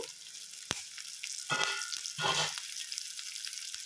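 Tempering of cumin, garlic, red chillies and curry leaves frying in oil for gongura dal, a quiet continuous sizzle with a sharp tap and a couple of brief bursts of louder crackle as things are stirred.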